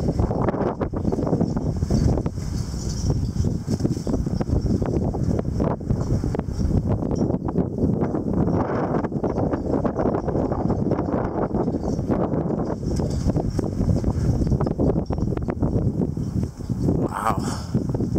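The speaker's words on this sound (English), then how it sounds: "I swear to God, these gusts are funneled through here." Strong wind gusts roar during a spring wind storm, funneled through the spot, buffeting loudly and continuously against the microphone with rough, surging bursts and no pause.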